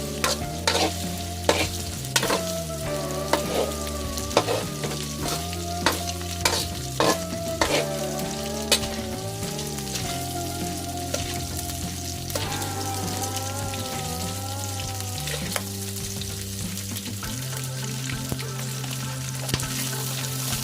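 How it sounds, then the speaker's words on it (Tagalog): Onion and garlic frying in a pan while spaghetti sauce is made, with a steady sizzle under repeated stirring and scraping clicks; music plays throughout at moderate loudness. "Lagyan na natin yung ating onion, guys, at saka garlic."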